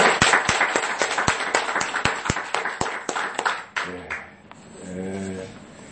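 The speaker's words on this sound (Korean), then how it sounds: "우리 청년들에게 한번 격려의 박수 힘차게" An audience claps vigorously to encourage young people in a church setting, a quick run of sharp claps close by that fades out as a voice begins speaking near the end.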